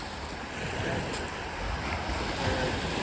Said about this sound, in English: There it is, Lake Superior.